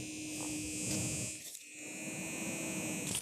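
A small homemade fan spins inside a phone cover, giving a thin, steady electric whine and buzz. It is faint and close, with a brief dip in the middle.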